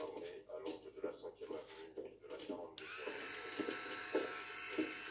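An electric facial cleansing brush runs at low speed, a soft steady buzz that starts partway through and hums on close by, with quieter handling sounds before it.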